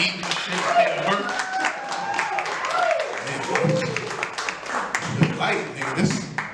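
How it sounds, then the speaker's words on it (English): An audience at a comedy show claps for the DJ, a loose spread of hand claps running under a talking voice throughout. "clap it up for the DJ and shit"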